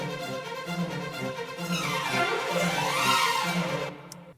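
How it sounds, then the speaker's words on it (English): Orchestral strings play quick runs and figures in a Christmas arrangement, busy rising and falling lines over a pulsing low part, steady and moderately loud, with no voices. "And finally, the strings, runs, and figures."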